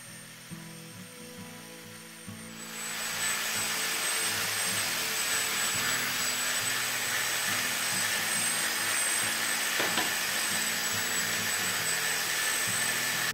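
An electric drill machine fitted on a stand spins up and drills holes for making key holders, a loud continuous high whine that holds steady throughout, with no talk.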